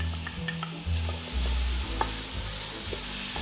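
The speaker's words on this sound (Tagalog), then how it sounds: "you saute garlic." Onions and garlic sauté in a hot pan, a steady sizzle and hiss under clacking stirs and scrapes of a utensil against the pan, close and continuous with no voices.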